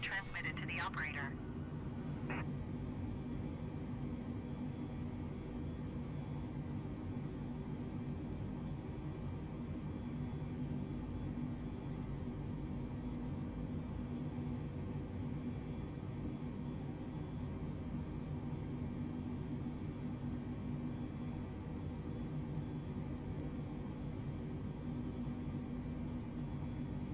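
An airliner is pushed back by a tug at Guernsey Airport, a steady low engine and ground rumble running throughout, with a brief burst of higher sound near the start.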